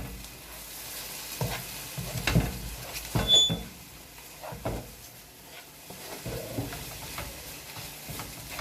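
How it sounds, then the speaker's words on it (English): A curry mixture is stirred and scraped in a pot, with a steady frying sizzle underneath and a few sharper knocks from the spoon against the pot, close by and without talk. "So yeah, so we're just going to mix that in."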